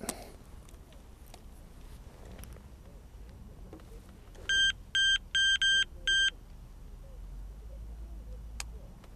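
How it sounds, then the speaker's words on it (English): An electronic fishing bite alarm gives five short, evenly spaced high-pitched beeps, clear and fairly loud over quiet outdoor background noise, with no talking. "I don't need the buzzer to realise that."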